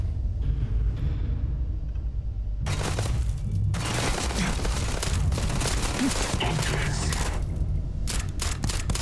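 Sustained bursts of close, loud gunfire in Starfield, starting after a quiet opening and running in heavy rapid volleys with short breaks, with some speech mixed in.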